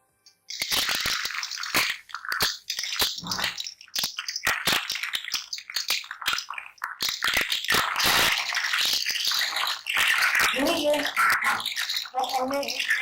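Baked seekh kebabs hit very hot oil in a kadhai, setting off loud, harsh sizzling and bubbling that crackles on and off, with brief quieter gaps and a voice speaking near the end.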